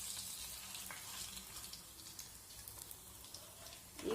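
Hinche leaf pakoras fry in hot oil over a low-to-medium gas flame, giving a steady, soft crackling sizzle throughout with a brief louder bump at the very end.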